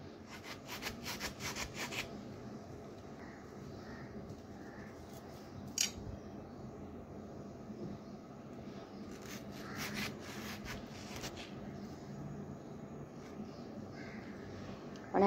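An Alphonso (hapus) mango being cut with a knife, soft rubbing and slicing scrapes close by, with a few light taps and clicks, faint and steady, and no talk.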